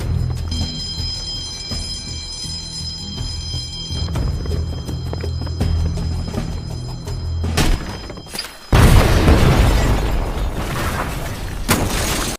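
A film explosion: muffled thuds and clatter build up before a sudden loud blast bursts out, followed by a sustained rushing roar of debris and noise.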